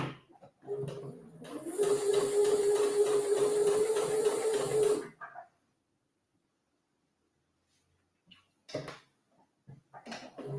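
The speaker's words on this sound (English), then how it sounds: "I'm using a straight stitch for these side seams" A sewing machine runs a straight stitch along the side seams of a wrap skirt in one steady buzzing burst of a few seconds, then stops, followed by quiet and brief handling noises.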